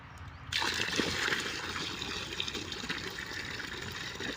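After a brief quiet moment, water starts pouring and splashing steadily, a continuous close rushing trickle that lasts to the end.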